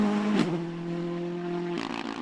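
A rally car on a West Cork Rally stage sweeps past with a sustained engine tone that suddenly drops in pitch as it passes, then a gravelly roar and clatter as it pulls away, fairly close.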